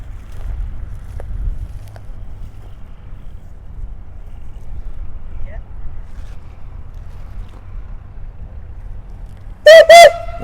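A steam ploughing engine at a ploughing match sounds its whistle in two short, loud, shrill blasts near the end, after a long stretch of low wind rumble and faint outdoor noise.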